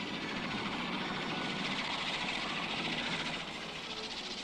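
A helicopter ferrying cement and repair materials to a lighthouse job, its rotor chop and engine roar loud and steady throughout, close overhead, with no talking.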